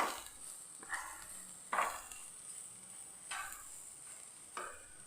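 Spice powders get stirred in a pan over a low flame, a quiet soft sizzle broken by several separate scraping strokes of the spoon across the pan at irregular intervals.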